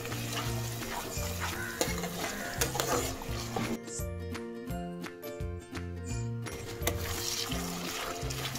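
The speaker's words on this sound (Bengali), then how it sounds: "এবার আমি এতে সর্ষে বাটাটা পুরোটা দিয়ে দেব, দিয়ে আবার কষাবো।" Mustard paste is added to a pan for prawn malai curry, then fried and stirred. A close, steady sizzle runs under the scraping of a utensil, with a brief lull partway through before the frying noise returns.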